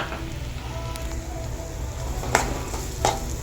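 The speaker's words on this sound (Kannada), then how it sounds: "ಇದಕ್ಕೇ ಓಟ್ಸ್ನು ಕೂಡ ಹಾಕ್ಕೊಂಡು ಸ್ವಲ್ಪ ಮಟ್ಟಿಗೆ ಫ್ರೈ ಮಾಡ್ಕೊಳ್ಳೋಣ" Oats sizzling as they fry in a pan, a soft steady hiss with a couple of brief scraping stirs near the end, fairly quiet and close, with no talking.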